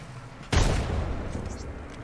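A single loud grenade explosion from Apex Legends hits suddenly, then a rumbling decay trails off over low game ambience.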